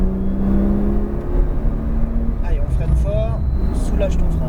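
A Porsche 911 Turbo S revs and accelerates on a racing circuit, its pitch climbing steadily and close by, with a voice talking over the steady engine roar.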